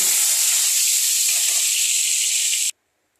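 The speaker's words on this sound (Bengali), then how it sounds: "হালকা একটা ভাজা করে নিচ্ছি।" Turmeric-and-salt-coated potatoes frying lightly in hot oil in a kadai, a continuous bright hiss and sizzle up close that stops abruptly near the end, followed by silence.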